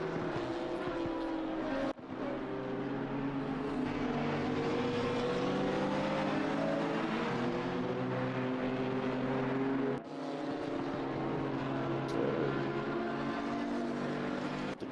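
KTM and Audi GT race cars battle on the Watkins Glen circuit in the sim racing game Assetto Corsa Competizione, their engines droning and revving loudly with overlapping rising and falling tones and brief shift cuts throughout.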